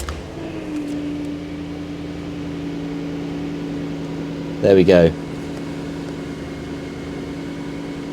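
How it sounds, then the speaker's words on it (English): A Jaguar V8 engine cranks briefly and catches, then settles into a smooth, steady idle hum, heard from inside the car; a voice speaks briefly near the start. "I'll fire it up and hopefully be able to demonstrate that there are no engine lights."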